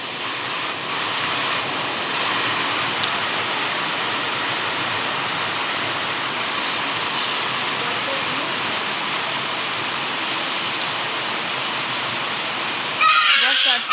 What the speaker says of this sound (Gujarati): તો જોઈ લ્યો ભર શિયાળે વરસાદ છે